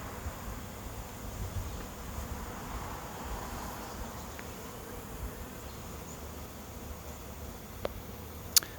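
A honey bee swarm arriving at a rooftop swarm trap box gives a steady, quiet buzzing hum throughout, with a couple of sharp ticks near the end and no voices.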